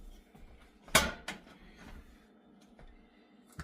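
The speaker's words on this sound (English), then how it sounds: "All right, I'm going to bring my pan over here." A baking pan is set down with one sharp clank, then a lighter knock follows. After that come a few faint kitchen bumps in a quiet room.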